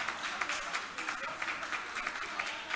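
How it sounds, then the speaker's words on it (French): Church congregation applauding during a French-language sermon, dense rapid clapping with uneven bursts, fairly close and sustained. "Applaudissez pour les seigneurs, pour les frères Branham."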